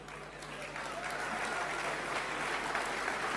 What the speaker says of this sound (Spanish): Los aplausos son geniales.